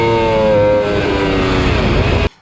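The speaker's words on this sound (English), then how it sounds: "my brand new clutch started slipping in 3rd and 4th gear, as you can hear in this video clip" A race car engine on track drones loud and close with a slipping clutch in third and fourth gear, its revs wavering under a continuous harmonic roar that cuts off abruptly at the end.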